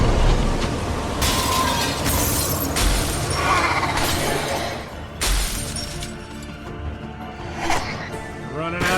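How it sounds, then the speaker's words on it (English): Mirrors shattering one after another in The Wolf Among Us, several sharp glassy crashes and bursts spread across the stretch, loud and close over a dense game soundscape. "How much bad luck is breaking all these mirrors?"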